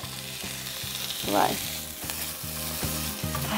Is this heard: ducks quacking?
no